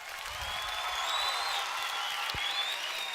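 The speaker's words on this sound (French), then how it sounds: "Pour les applaudir." A theatre audience applauds after a performance, dense and sustained clapping from a crowd that holds steady throughout, with a few faint voices underneath.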